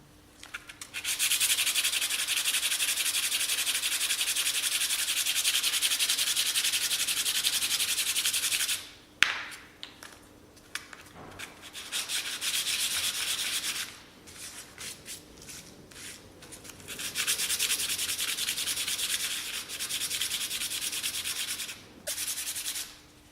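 Sanding by hand along a turned edge to smooth out ridges left by a parting-off tool, a steady close abrasive rubbing in long continuous strokes with a few brief pauses and shorter bursts midway.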